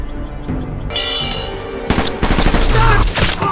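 Gunshots in a film scene, a burst of loud, close shots with sharp cracks following a quieter lead-in, dense rapid reports toward the end.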